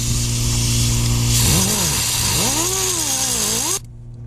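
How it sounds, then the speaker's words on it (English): Cutoff wheel grinding through a rounded bolt on a 2001 Jeep XJ front suspension: a loud, steady high whine that dips and rises in pitch as the wheel loads up, then cuts off abruptly near the end. "So I guess it's getting out the cutoff wheel."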